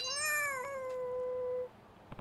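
A single cat in the video game Lost Judgment gives one clear, drawn-out meow, close and fairly loud, fading into quiet background afterward.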